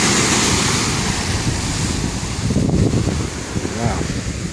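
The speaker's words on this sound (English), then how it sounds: "It's quite amazing to see waves that are larger than normal, but it does make for dangerous surf." Large, dangerous ocean surf breaks at Seal Beach, California, a loud continuous roar of crashing waves mixed with wind buffeting the microphone, heard from high above the sand.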